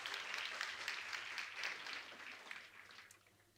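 Audience applause at an International Women's Day breakfast, a dense wash of many hands clapping at moderate distance that thins and fades toward the end.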